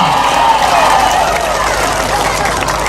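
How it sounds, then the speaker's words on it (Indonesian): A crowd at an outdoor political campaign rally applauds loudly in a sustained wash of clapping and cheering that stays constant and near throughout, with crowd chatter blended underneath. "Tepuk tangan untuk kita semua."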